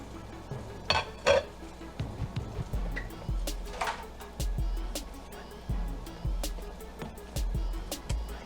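Crab legs are dropped into a pot for a seafood boil. Hard shells knock and clink against metal in a close series of irregular clanks, with quiet gaps between them.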